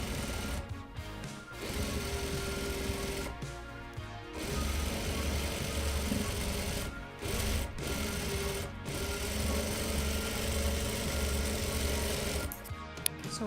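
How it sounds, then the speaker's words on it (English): A sewing machine stitches a reversible tote bag in bursts, its steady motor whir running for a few seconds at a time and pausing between runs, close and fairly loud with no voices. "All right, we're gonna sew."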